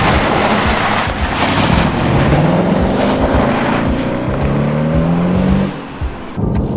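A 2013 Jaguar XF with a V6 drives under load, its engine note a rising tone beneath loud wind and road roar, steady throughout.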